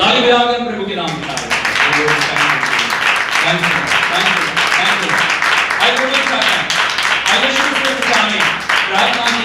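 Church congregation clapping their hands in praise, a dense, rhythmic run of claps that lasts the whole stretch, loud and close, mixed with voices singing or speaking over it.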